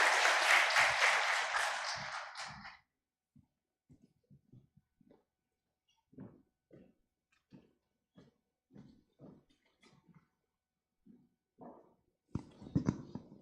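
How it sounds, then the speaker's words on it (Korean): Church congregation applauding to welcome a speaker at a course graduation ceremony: a brief burst of clapping for about three seconds, then quiet with scattered soft noises and handling sounds. "박수로 한번 환영하시겠습니다"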